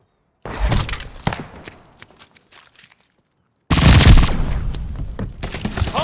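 Gunfire in Call of Duty: Vanguard comes as loud, close bursts of rapid shots with shattering crashes, then a short silence before a heavier, sustained volley of rattling fire.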